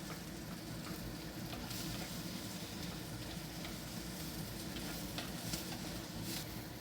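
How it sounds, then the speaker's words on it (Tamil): Chopped onions frying in a pan, a continuous close sizzle with soft stirring scrapes throughout, no voices. "வெங்காயத்தை நல்லா கலக்கி விடலாம்."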